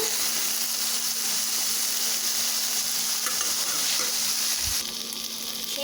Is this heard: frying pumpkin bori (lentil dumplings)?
yes